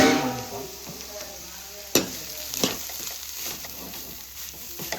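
Grated coconut fries in a pan while being stirred, a soft continuous sizzle broken by a few sharp scraping knocks of a spoon against the metal, close by and with no voices.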